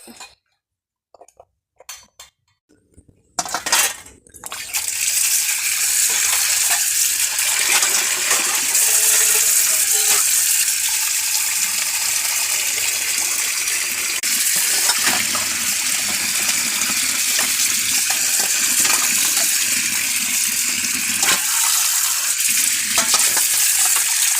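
Water gushing from an outdoor tap during household chores, a loud steady broadband rush that starts after a few seconds of quiet clatter and continues unbroken to the end, with no talking.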